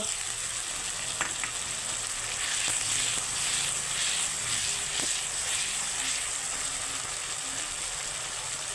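Tomatoes go into a pan of chicken curry with potatoes and sizzle steadily, a continuous hiss of frying with a few faint clicks of stirring, even and moderately quiet throughout, with no voices.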